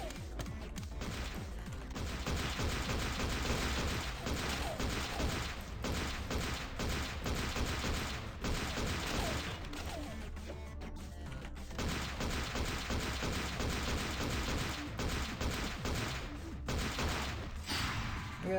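Dense, continuous gunfire from a magazine being emptied into enemies in MADNESS: Project Nexus, loud and near, with rapid shots running almost unbroken and a few short gaps.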